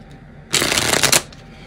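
A deck of tarot cards is riffled once in a quick, close, crisp shuffle lasting about half a second, standing alone against a quiet room.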